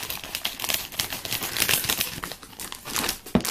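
A Topps Star Wars: The Force Awakens sticker starter pack is torn open, its plastic and paper wrapping crinkling and crackling in dense, close bursts for several seconds, with no talking.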